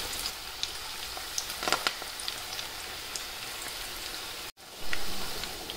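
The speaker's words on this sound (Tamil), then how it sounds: "எண்ணெய் வந்து நல்லா காஞ்சிடுச்சு, இப்போ கொஞ்சம் கொஞ்சமாக போட்டுக்கலாம்" Vegetable egg pakoda batter dropped into hot oil, frying with a steady dense crackle and hiss, a few louder spits early on, a brief break near the end before the sizzle resumes louder.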